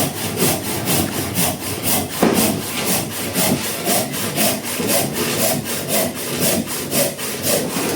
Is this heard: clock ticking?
no